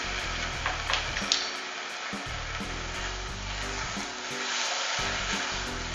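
Spinach sizzles loudly in a hot pan just as a small splash of balsamic vinegar goes in, a continuous close frying hiss with stirring scrapes and clinks.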